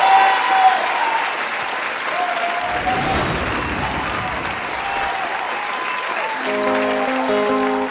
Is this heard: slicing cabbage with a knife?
no